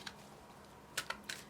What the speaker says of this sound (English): So here I go shuffling.